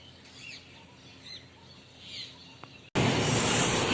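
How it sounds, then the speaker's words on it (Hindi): Several faint bird chirps sound at intervals in a quiet outdoor setting, then a sudden loud burst of broadband noise cuts in near the end. "चिड़ियों की आवाज़ आ रही होगी"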